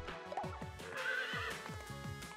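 A horse in the Miitopia video game neighs in a bright, wavering whinny over clip-clopping hooves and game music, loud and close.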